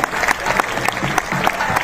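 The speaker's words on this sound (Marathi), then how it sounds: "जोरदार टाळ्या वाजवायला पाहिजे." Audience applause at an award ceremony, a loud, dense burst of many hands clapping together with a faint murmur of the crowd beneath it.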